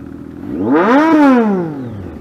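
A KTM Duke 390 motorcycle accelerating, its exhaust note rising in pitch to a loud, close peak around the middle and then falling away as it passes.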